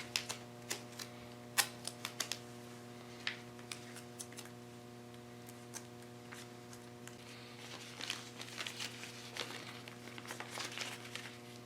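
Small strips of tape torn and pressed around fabric wrapped on a homemade training sap, quiet crisp ticks and rustles scattered through a steady low hum, some faint crinkling near the end.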